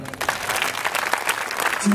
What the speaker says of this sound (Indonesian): Tepuk tangan ya semuanya.